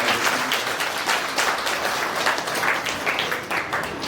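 A church congregation at a St. Anthony's Novena service applauds the priest, a dense, continuous wash of many hands clapping together, loud and sustained throughout with no speech over it.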